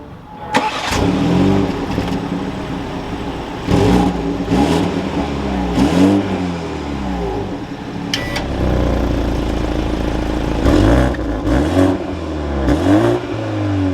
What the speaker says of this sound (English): Let's fire up this 230i.